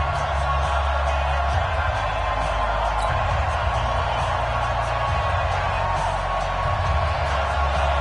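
A stadium crowd in an EA Sports NFL video game before a New York Jets and Houston Texans matchup, a loud, constant roar of cheering that stays level throughout.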